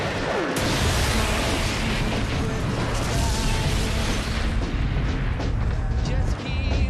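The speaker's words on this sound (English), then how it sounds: "And here comes your missile strike." A missile strike explosion in a TV show: a dense, sustained roar of blast and rumbling debris with creaking metallic textures, loud and continuous throughout with a brief dip near the end.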